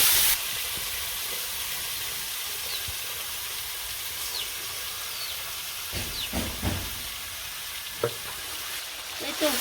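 Meat being sautéed and fried in a pan while cooking outdoors in a village, a constant hissing sizzle with occasional stirring clatters and scrapes near the end.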